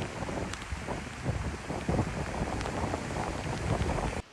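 Strong typhoon wind roars steadily, a loud continuous rushing buffet with gusty surges and no voices, cutting off abruptly at the end.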